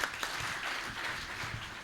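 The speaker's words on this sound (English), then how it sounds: "A huge round of applause" A leadership summit audience applauds a guest taking the stage, a steady wash of many hands clapping at a moderate distance, fairly soft and even throughout.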